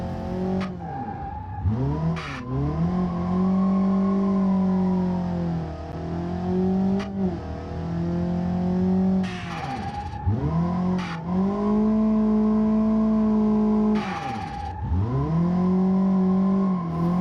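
Engine of a Volvo 740 turbo drift car in BeamNG Drive, loud and steady as it revs high, with repeated downshifts and throttle blips dipping and rising again, plus brief tire squeal.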